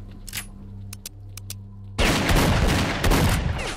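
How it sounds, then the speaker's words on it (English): Enemy shotgun fire in the shooter S.T.A.L.K.E.R.: Lost Alpha: a few sharp distant cracks over a low hum, then a sudden loud burst of close heavy blasts and rumbling echoes. "That guy also has a shotgun!"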